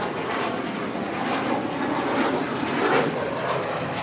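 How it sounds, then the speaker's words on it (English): Lufthansa airliner arriving from Munich on final approach to touch down at LAX, a steady broad engine roar with a faint high whine, constant and moderately distant. "Lufthansa flight 452 coming in from Munich, about to touch down."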